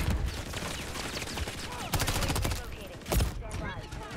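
Chaotic, continuous gunfire in the video game Modern Warfare 3, with layered bursts and a few louder nearby shots under a dense battle din, while a voice talks faintly.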